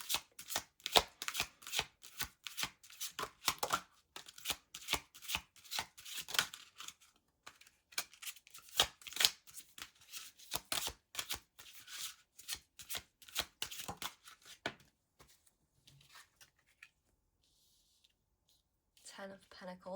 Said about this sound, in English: I'm going to pull a few more cards for you guys, pile 1